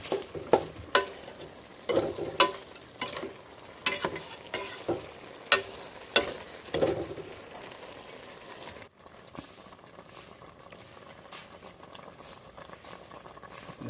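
A pot of food bubbling and boiling, with rhythmic clanks of stirring against the pot in the first half, then a steady, softer bubbling simmer on its own.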